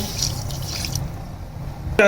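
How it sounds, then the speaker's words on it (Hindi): Half a glass of water poured into a pot while making zarda sweet rice, a short splashing pour followed by quieter background and a sudden clatter at the end. "देखिए आधा गिलास जो है इस पे पानी का साथ ऐड कर देंगे।"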